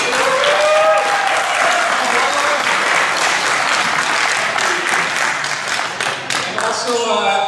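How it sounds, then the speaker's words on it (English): A crowd at an awards ceremony bursts into loud, sustained applause, dense clapping with some cheering that carries on for several seconds, faint voices mixed in. "So how about a big round of applause for you?"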